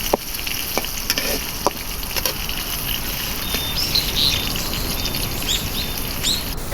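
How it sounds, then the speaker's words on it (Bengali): Two large chopped onions sizzle in hot oil in a pan, a steady close frying hiss with scattered small pops and crackles, no voices. "বড় বড় 2টা পেঁয়াজ কুচি দিয়ে দিলাম।"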